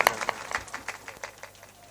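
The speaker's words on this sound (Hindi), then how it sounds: "एक बार जोरदार ताली का स्वागत करें।" A crowd at a Ram Katha gathering breaks into applause to welcome a guest, producing quick, scattered claps that begin loud and thin out over two seconds.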